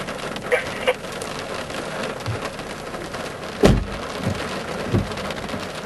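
Steady rain hisses during an October thunderstorm in northern Indiana, with a few sharp, louder impacts of drops or gusts standing out against the constant wash.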